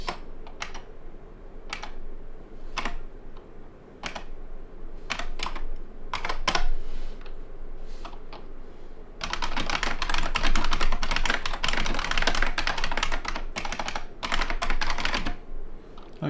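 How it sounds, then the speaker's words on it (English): Fast, clattery typing on a Unicomp Model M replica keyboard with buckling spring switches: scattered loud keystrokes at first, then a dense, continuous burst of rapid typing, close and alone. "it is a Unicomp Model M replica with buckling spring switches"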